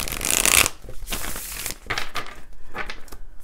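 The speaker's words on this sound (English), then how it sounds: "I have to shuffle this one more time" Tarot cards being shuffled by hand give a crisp riffle burst at the start, then softer rustling, flicking and sliding of the deck, close and fairly loud with no talk.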